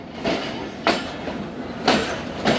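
Khyber Mail train running on the rails after departing Sadiqabad station, with four sharp rhythmic clacks of wheels over rail joints over a steady rolling rumble, close and loud.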